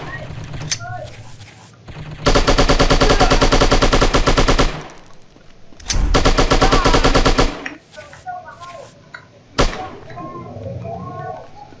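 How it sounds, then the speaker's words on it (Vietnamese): AK rifle gunfire in the shooting video game Striker comes in two long, loud, rapid automatic bursts, with a few single thumps and quieter game sounds between them. "Ôi, AK bắn gần thế."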